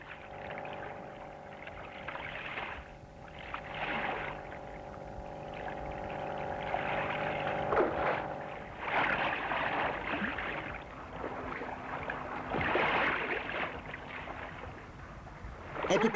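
Rowing a boat on water at sea: a continuous watery swish and splash with rhythmic surges and soft knocks, wind noise over the microphone, and a steady faint hum beneath.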